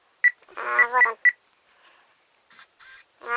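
Short electronic beeps and chirps from a phone calibration app, several in quick succession with pauses between, fairly quiet.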